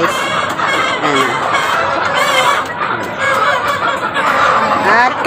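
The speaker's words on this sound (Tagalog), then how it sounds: "Yung tandang ko guys." A rooster clucks loudly and close at feeding time among hens, a continuous busy stream of overlapping clucks and chortling calls with no pause.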